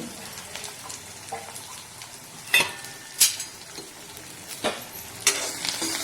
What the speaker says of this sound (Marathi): गुलाबीसर होईपर्यंत परतून घ्यायचा आहे कांदा